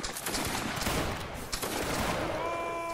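A musket volley bursts out in a Waterloo battle video game, a dense crackle of many shots fired together, loud and close, with a second ragged wave of fire and some ringing tones at the end.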